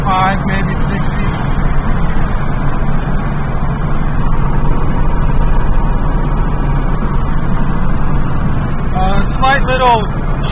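A Datsun Z car cruising in fifth gear at around 60 to 70 mph gives a steady, loud interior engine and road drone, with a slight tire shake and a brief voice near the end.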